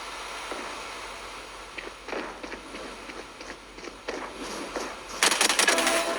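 Gunfire in a Valorant-style tactical shooter video game: scattered single shots and short bursts, building to a loud rapid volley near the end, with faint footsteps between.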